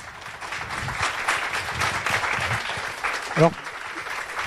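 An audience applauds a student reader at a departmental final of a children's reading contest, with steady, moderately loud clapping throughout and a brief voice rising near the end.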